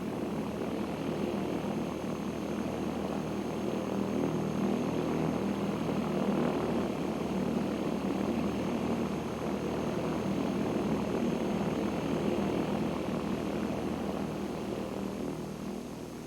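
A small propeller airplane taxiing to transient parking, its engine a steady, loud, close drone that holds an even pitch throughout with no talking.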